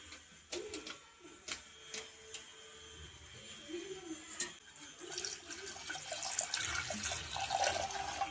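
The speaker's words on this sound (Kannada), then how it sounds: "ಒಂದು ಲೋಟ ನೀರು ಹಾಕಿ ಮಿಕ್ಸ್ ಮಾಡಿಕೊಂಡ್ರೆ" Water pours and sloshes in a container as it is mixed with pani puri mix powder, growing louder toward the end, with a person talking over it.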